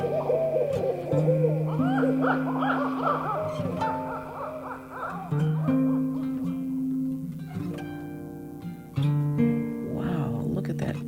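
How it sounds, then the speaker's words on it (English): Two owls on either side of a sea cove hoot back and forth at night, repeated tonal calls trading in a slow rhythm, one nearer and louder, with faint rippling trills between. "we were awoken by 2 owls singing to each other from either side of the cove"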